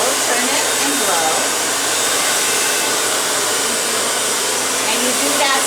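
A hair dryer blows a steady, loud, even whoosh while blow-drying hair over a brush into waves, running continuously without pauses.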